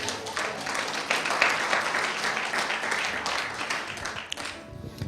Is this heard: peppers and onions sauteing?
no